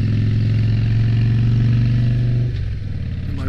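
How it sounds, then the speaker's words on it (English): A motorcycle engine rumbles loudly and steadily on a mountain road out of Denver, Colorado, holding a deep droning tone through corners before the pitch drops and shifts near the end. "My bike really rumbles around these corners."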